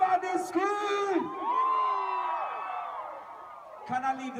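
Crowd at a Caribbean festival in Orlando whoops and yells in loud tonal bursts, a sustained wavering shout in the middle, then another burst of screaming at the end.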